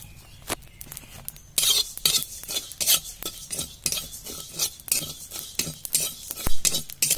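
Cumin seeds frying in a pan for a mango pickle oil, stirred with a metal spoon that makes irregular scrapes and sharp clinks against the pan, close and without speech.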